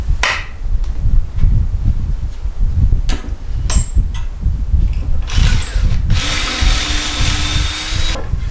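A power drill drives pocket screws to join 1x4 boards into a rectangular box for a van bed frame, loud and close with bursts of whirring, clunks of wood handling, and a steady background rumble.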